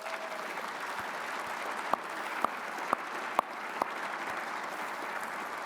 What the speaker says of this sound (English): great warriors a round of applause.